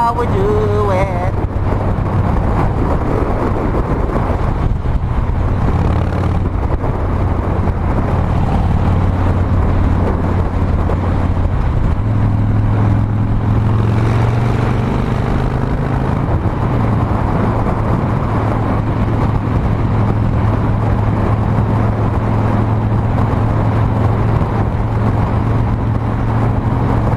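Harley-Davidson Street Bob Dyna motorcycle riding through Sydney at night, a loud, continuous low engine rumble mixed with wind roar, the pitch rising and falling slightly as the bike cruises.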